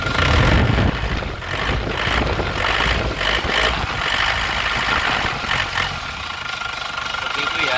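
A 2000 Isuzu Panther New Royale engine in original condition rumbles and revs, loud and near, a steady running drone with rising pushes of throttle as someone talks over it.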